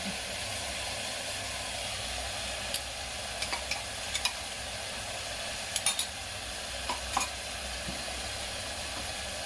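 A ground spice paste roasts in a pan with a steady broadband frying hiss, and a few light spoon clicks and scrapes now and then rise above it. No one speaks.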